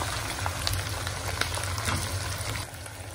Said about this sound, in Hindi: देखिए गोश्त को हमें इसी तरह तेल में अच्छे से फ्राई करना है।